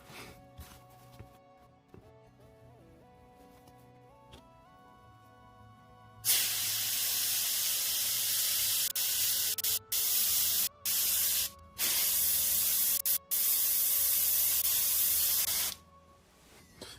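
Airbrush spraying paint onto a miniature, the gunked-up brush giving a loud steady hiss in long bursts broken by short pauses, starting several seconds in after a quieter stretch.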